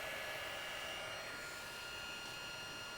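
Heat gun warming a Sintra plastic sheet for molding, a steady, even blowing whoosh with a fan hum, continuous and fairly quiet.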